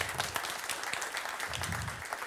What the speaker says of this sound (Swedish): En varm applåd.